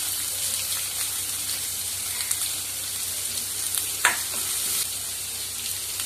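Onions and green chillies hit hot oil with popped mustard seeds and urad dal, giving a constant near sizzle with a few sharp spatters and stirring clinks, no voices.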